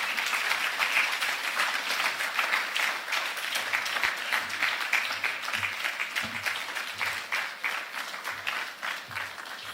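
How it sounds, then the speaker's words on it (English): Audience applause after a speech at a national mining dialogue in Ghana, a long, sustained roar of many hands clapping, dense and fairly loud, slowly thinning toward the end with no speech over it. "A round of applause for lawyer Sammy Gyamfi."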